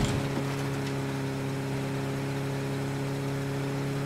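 A car engine idles steadily in the video game State of Decay 2, a low even hum with a thin tonal whine sustained throughout at moderate volume.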